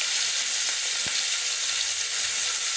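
Spices and fenugreek leaves frying in a pan for an Indian masala egg biryani, a loud continuous sizzle with a faint stir or tap partway through, close up and alone.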